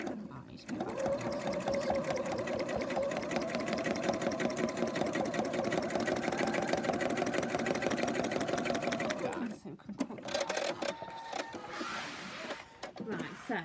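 Sewing machine running steadily through free motion embroidery stitching for about nine seconds, a fast even whir close by, then stopping and giving way to brief handling noises and faint talk.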